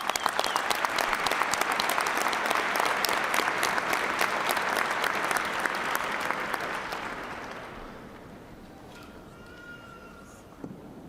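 A large graduation ceremony crowd for the College of Business & Technology gives a long round of clapping that fades out after about eight seconds, leaving a quiet hall.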